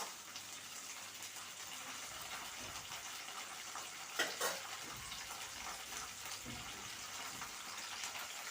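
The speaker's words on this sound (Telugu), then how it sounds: "మధ్య మధ్యలో కలుపుకుంటూ పచ్చిమిరపకాయ ముక్కల్ని మంచిగా వేపుకోవాలండి" Green chilli pieces fry in a pan with a soft, steady hiss of sizzling oil and a couple of brief stirring scrapes, fairly faint and without talk.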